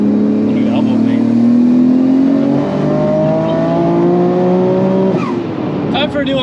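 A Nissan Skyline at a drag strip spins its wheels in second gear, the engine loud and close with rising revs. It cuts off abruptly at around five seconds, followed by brief crowd noise.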